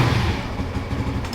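A Suzuki GSX-R150 motorcycle engine running just after starting on a freshly charged battery, a steady low rumble heard close with no talk over it.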